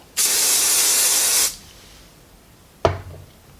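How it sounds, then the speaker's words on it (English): Hairspray hisses from an aerosol can onto a poodle's coat in one steady burst of about a second and a half, followed by a quiet pause and a single soft thump. "as the hairspray dries, I'm molding it to have a nice little shape and like maintain the flyaways"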